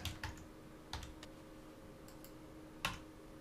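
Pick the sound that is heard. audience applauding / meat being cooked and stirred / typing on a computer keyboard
typing on a computer keyboard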